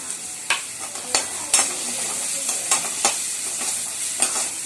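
Chopped onions sauté in a hot pan while being stirred for a mushroom Manchurian, a soft steady sizzle broken by sharp scraping strokes of the spoon at irregular intervals, close by.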